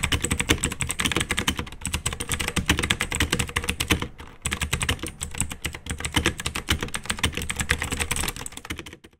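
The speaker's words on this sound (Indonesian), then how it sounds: "sudah menggunakan switch yang blue dan itu biasanya clicky ya" Fingers type on a Robot Workmate II mechanical keyboard fitted with clicky blue switches, giving a dense, rapid stream of sharp clicks up close that pauses once briefly before resuming.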